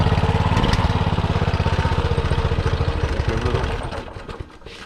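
A Subaru 7.0 engine on a doodle bug runs close by with a loud, rapid, steady chugging that tapers and sputters toward the end as it begins to die down.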